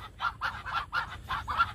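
A quick series of short, raspy quacking calls from ducklings close by, about seven in under two seconds.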